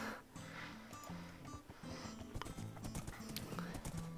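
A horse gallops in Minecraft with rapid, rhythmic clip-clop hoofbeats, close and steady, mixed with a short whinny and snort, while a voice talks quietly.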